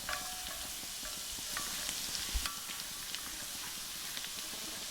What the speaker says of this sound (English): As you allow the butter to melt and sizzle to a bit, you add in about 6 cloves of garlic finely minced